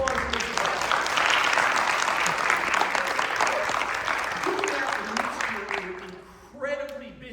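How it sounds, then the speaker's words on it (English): A school board of education meeting audience applauds steadily for several seconds as dense, even clapping fills the room. The clapping thins out near the end, and a voice begins talking. "So a round of applause for Mrs. Hull."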